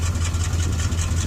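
A truck engine idles through a single-pipe exhaust, a steady low rumble with an even pulse that holds close and continuous for the whole moment, with no voices over it.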